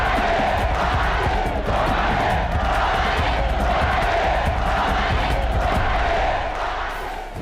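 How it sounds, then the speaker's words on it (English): A huge stadium crowd at a Muhammad Ali fight chants "Ali bumaye" in a steady, rhythmic roar, the massed voices swelling continuously and loud throughout. "Muhammad got that Ali bumaye chant going right from the get-go"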